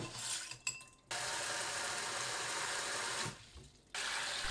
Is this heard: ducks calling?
no